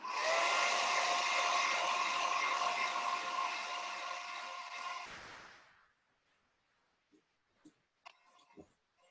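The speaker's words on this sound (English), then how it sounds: "I'm gonna zap it with the blow dryer." Hair dryer blowing steadily at close range while drying paint on a bar of soap or a candle, a loud continuous whoosh for about five seconds that cuts off, followed by a few small faint clicks and taps.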